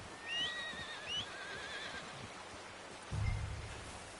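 A horse in the video game Red Dead Redemption 2 gives a high, wavering whinny near the start, then a softer second neigh, followed a bit later by a low thud of hooves or movement.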